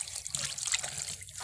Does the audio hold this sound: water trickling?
yes